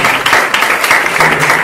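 Audience applause at the Tricase literature festival, a steady dense wash of many hands clapping from a seated crowd, loud and close, filling the whole short moment without any talk over it.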